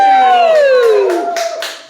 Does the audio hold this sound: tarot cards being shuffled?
no